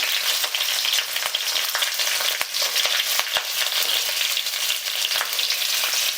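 Cut cauliflower, carrot and beans hit hot oil with spices and bay leaf in a pan and sizzle loudly and steadily up close, broken by a few sharp clinks and scrapes of stirring.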